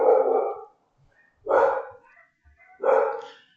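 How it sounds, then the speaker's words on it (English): Dogs bark from inside a home in the late afternoon as people walk past outside, giving three loud, close bursts of barking about a second apart with short quiet gaps between them. "that's the dogs"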